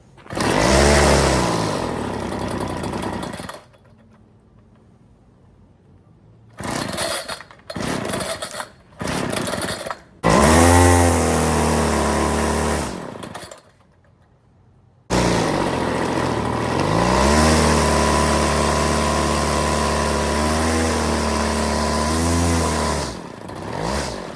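Homelite weed trimmer's small two-stroke engine buzzing loudly after a carburettor adjustment, running in bursts with brief revs and pauses, then holding a steady high drone.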